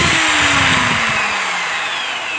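A repaired Bosch angle grinder runs close by with a loud, high whine that slowly drops in pitch as it spins down over a couple of seconds.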